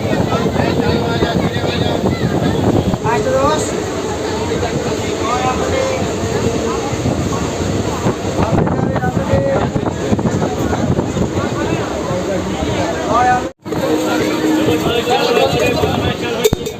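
A local train from Mecheda to Digha rumbles along in a steady, continuous roar from inside the carriage, with voices chattering beneath the noise and a brief dropout near the end.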